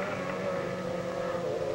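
Outboard racing boats at the 1953 Winnebagoland Outboard Marathon make a steady, fairly faint buzzing engine drone across the water, one even continuous whine with no pauses.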